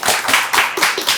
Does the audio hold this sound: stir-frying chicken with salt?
no